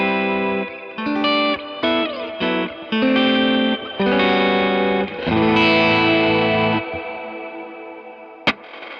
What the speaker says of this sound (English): So the reverb, I also have it set on a super long decay